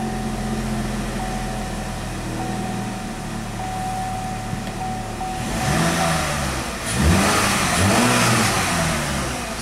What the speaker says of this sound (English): Seems to rev okay.